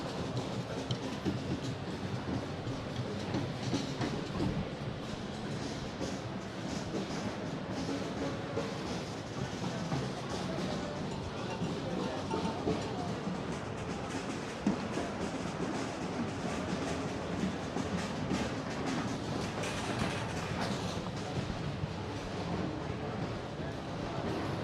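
Ambient noise on the floor of the NAMM music trade show, a dense continuous wash of crowd murmur and mixed instrument and equipment sounds at steady moderate level throughout.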